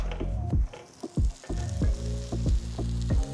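Potato snack toasting in butter in a pan over a medium flame, a steady close sizzle broken by repeated soft thumps and scraping as it is pressed and flipped, with no talking.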